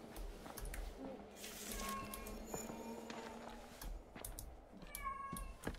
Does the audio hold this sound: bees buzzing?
no